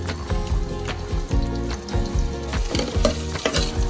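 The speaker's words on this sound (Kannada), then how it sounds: "ಸೊ ಇದನ್ನೆಲ್ಲ ಚೆನ್ನಾಗಿ ಫ್ರೈ ಮಾಡ್ಕೋಬೇಕು." Sliced onions, bay leaves and whole spices frying in hot oil for homemade village-style chicken biryani, a loud, steady close sizzle with occasional stirring scrapes and pops, no voices.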